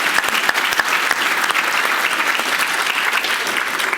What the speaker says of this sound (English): Will you give them a round of applause for believing in us?